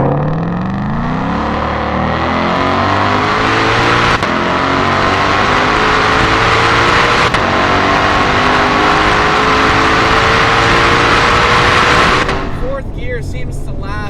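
A Hennessey Venom 1000 GT500 engine revving hard under acceleration, a loud continuous roar that climbs in pitch through long pulls with brief drops between gears, then fades away at the end.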